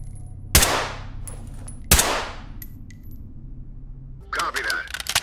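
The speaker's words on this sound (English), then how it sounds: "I'm gonna throw a flashbang down there" Two sharp, loud bangs from flashbang grenades in the tactical shooter Ready Or Not ring out about a second apart, each trailing into a fading metallic echo, followed by brief shouted voices near the end.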